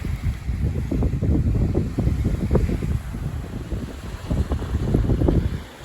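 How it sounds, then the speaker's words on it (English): A north wind blows at a shoreline, buffeting the microphone in heavy, continuous gusts that rumble loud and close, with faint surf behind. "here's the wind. Yeah, it's blowing right at us"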